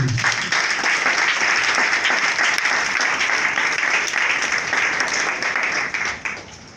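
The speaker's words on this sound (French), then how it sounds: "Acclamez mon Jésus" Church congregation applauding after a sermon call to acclaim Jesus, a dense, steady wash of many hands clapping at close range, holding level for several seconds before tapering off at the end.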